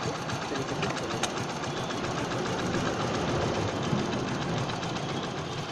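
A Hero HF Deluxe motorcycle engine idles during a mileage adjustment, a steady, even mechanical putter with a fast ticking rhythm, close and continuous, with no talking.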